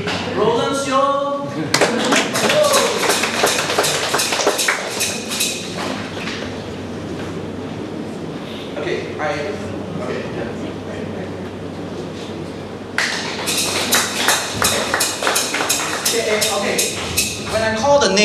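A church congregation at a Sunday service claps continuously in dense, sustained applause that thins in the middle stretch and then swells strongly again, with a voice speaking over it at times.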